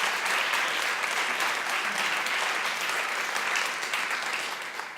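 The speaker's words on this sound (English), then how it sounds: "let's take a moment to give a big round of applause for all of our student curators." A crowd at a women's empowerment speech event claps for student curators, sustained dense applause holding steady for several seconds before easing slightly at the end.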